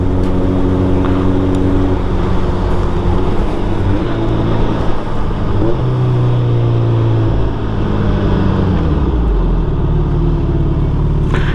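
A 2022 Suzuki Hayabusa engine while riding, a loud steady rumble with the pitch shifting up and down through gear changes and throttle, wind-buffeted and continuous.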